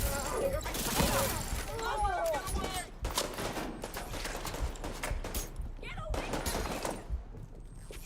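Gunfire in the shooter game The Division 2: a steady, dense stream of rapid shots and bursts layered with other loud battle effects, continuing without a break for the whole stretch.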